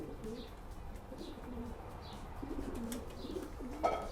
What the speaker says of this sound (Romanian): să-ți prezint un porumbel care mi-a adus mie satisfacții